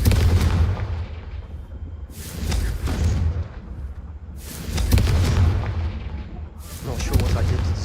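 Confringo fire spell from the Hogwarts Legacy video game, heavy booming blasts with explosive bursts repeating roughly every two seconds over a low rumbling game soundscape.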